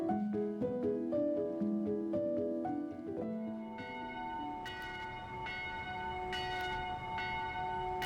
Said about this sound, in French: Ces deux cloches qui se répondent sont celles du clocher de l'église de Mauthausen